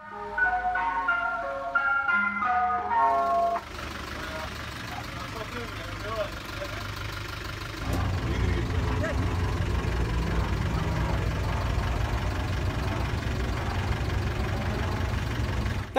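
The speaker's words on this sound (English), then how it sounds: "This dog waits for the ice cream truck every single morning." An ice cream truck chimes its jingle melody for a few seconds, then its engine idles with a steady, close, low rumble that runs on to the end.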